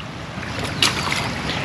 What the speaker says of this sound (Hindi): प्रियंका आपको देखो, ये बारिश का पानी हिमाल देवता से होते हुए आ रहा है